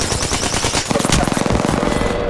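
Automatic weapons fire in the shooter game Apex Legends crackles in rapid, loud bursts, building into a dense, rhythmic stream of shots that dominates the mix.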